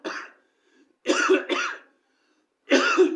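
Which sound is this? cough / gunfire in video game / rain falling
cough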